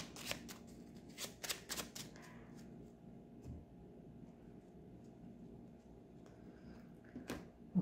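A Lenormand card deck is cut and shuffled close by, with a quick series of sharp riffling flicks at the start, then a quiet stretch and a last short flick near the end.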